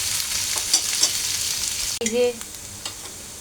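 Minced meat with potatoes and lightly cooked onions sizzles in a pan, with a soft steady hiss broken by a few stirring scrapes, close by, while someone briefly speaks.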